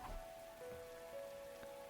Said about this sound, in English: Raindrops were pelting the rooftop all around me, producing a relentless rhythmic beat.